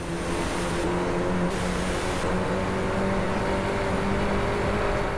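In the Driveclub racing video game, a race car engine roars at full throttle as a sustained, loud, droning whine that holds steady for several seconds with no talking.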